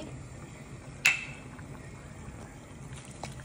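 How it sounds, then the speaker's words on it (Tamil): Milk poured into a pot of millet pongal: a single brief splash near the start, then a soft liquid trickle fading into quiet background. "கொஞ்சம் சாஃப்டாக வேணும்னா கொஞ்சோண்டு பால் ஊற்றிக்கலாம்"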